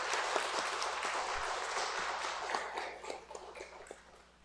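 Steady applause from a church congregation fills the room, a dense wash of many hands clapping that gradually thins and fades toward the end.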